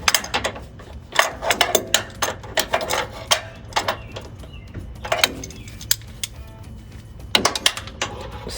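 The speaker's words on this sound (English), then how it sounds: "you can place your ratcheting wrench there" Ratcheting wrench working a bolt on the upper A-arm suspension of a 2009-2020 Ford F-150, giving off bursts of quick clicking at close range with short pauses between strokes and no talking.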